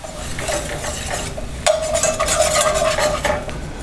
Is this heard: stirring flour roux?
yes